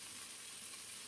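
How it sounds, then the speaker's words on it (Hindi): Dal tadka (tempering) sizzling in a pan in a home kitchen: a steady, close, continuous frying hiss with no talking. "और अब मैं दाल का तड़का तैयार कर रही हूँ।"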